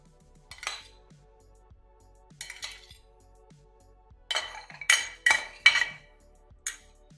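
Potatoes and chickpeas stirred in a bowl for chaat: separate close clinks and taps of a spoon against the dish, sparse at first and then a faster cluster of bright knocks, heard alone.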